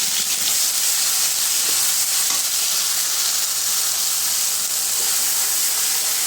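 A ground paste of mustard seed, onion, garlic and green chili sizzles loudly in a pan of oil, a steady, dense hiss that runs without a break and has no talk over it.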